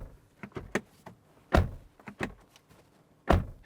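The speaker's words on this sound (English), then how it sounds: "What the door slam sounds like." Doors of a 2025 Volkswagen ID.4 electric SUV are shut, with two solid, deep thuds about two seconds apart, close and loud, amid lighter clicks and handling noises.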